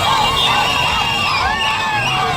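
A large crowd packs Kafu Bridge to welcome State Minister Balam Barugahara, with continuous loud cheering, yelling and whoops blending into a dense, steady roar close by.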